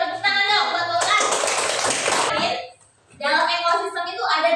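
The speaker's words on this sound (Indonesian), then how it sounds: "Tepuk tangan dong buat Mbak Ulan" A classroom of primary-school children claps together for a classmate, a dense burst of clapping lasting about a second and a half between stretches of a voice talking close by.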